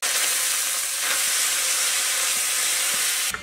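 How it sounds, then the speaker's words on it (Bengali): Fried lentils tipped into a hot pan with whole cumin, cardamom and ginger paste give a loud, steady sizzle that fills the clip without a break, with faint stirring scrapes underneath and no voices. "গোটা জিরে এলাচ আদা বাটা এবার দিয়ে দিচ্ছি ভেজে রাখা ডাল"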